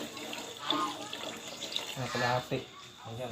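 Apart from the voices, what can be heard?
water being added to chop suey pot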